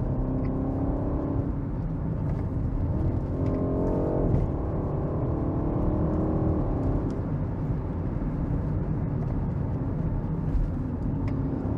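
A 2021 BMW 128ti (F40 1 Series) hot hatch accelerates with a steady, loud engine drone and road roar from inside the cabin, pitch rising through gear changes, with no talking.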